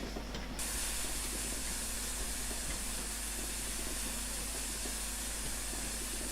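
Flying Scotsman steam locomotive in a Train Sim game run from Crickfield to Shencliffe, giving a steady, loud hissing of steam over a low rumbling rail drone, with a brief brighter burst at the very start.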